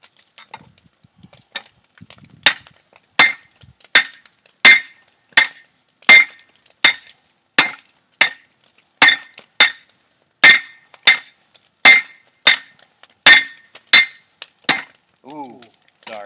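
Metal being hammered on an anvil to straighten it, with about twenty sharp ringing strikes at a steady rhythm, loud and close, with no talking.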